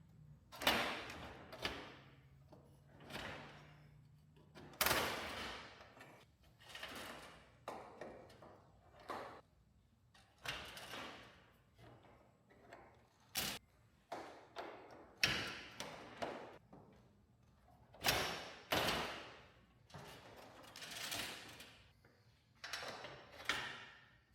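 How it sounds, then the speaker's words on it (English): Garage door being raised by hand while its rollers are replaced, a series of irregular rattling scrapes, clunks and squeaky slides from the panels and tracks, close and fairly loud, with pauses between bursts. "I'm raising the door so that I can access the next 2 down and change those"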